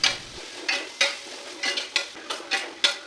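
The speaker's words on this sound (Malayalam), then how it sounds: "വെജിറ്റബിൾസിലേക്ക് ആവശ്യത്തിനുള്ള ഉപ്പ് ഇട്ടതിന് ശേഷം പച്ചമണം മാറുന്നത് വരെ നന്നായിട്ടൊന്ന് വഴറ്റിയെടുക്കുക" Salted vegetables for restaurant-style Hakka noodles are sautéed in a pan, a low sizzle broken by regular scraping strokes of a spatula about every third of a second, close and clear, without speech.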